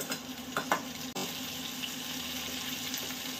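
Small onions sauté in oil in a pan, a steady close sizzle after a few brief clinks of a stirring spoon at the start, with no speech.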